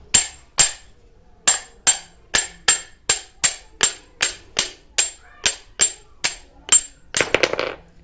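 A steel hammer with a broken wooden handle is struck repeatedly to knock the handle out: about fifteen sharp, ringing metallic blows in a steady rhythm, close and loud, ending in a rougher, rattling impact.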